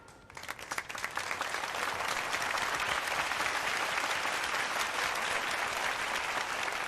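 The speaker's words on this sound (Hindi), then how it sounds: "एक बार फिर से जोरदार तालियां" An audience applauds prize winners, with sustained dense clapping building quickly to a steady loud roar that carries on for several seconds.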